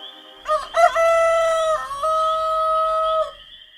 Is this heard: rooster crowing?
yes